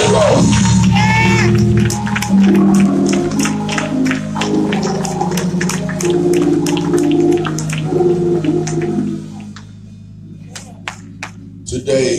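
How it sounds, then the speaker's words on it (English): A church congregation claps hands in rhythm during a worship service, sharp repeated claps over sustained music and voices, loud and close, thinning out near the end. "Come on and clap them."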